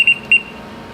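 Two short, bright electronic beeps from the SmartTouch2 touchscreen control of a Blodgett Hydrovection oven, evenly spaced and close, over a faint background hum.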